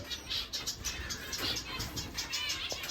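Lady Gouldian finches in breeding cages give rapid, thin chirps throughout, a busy close chatter of small birds with faint rustling.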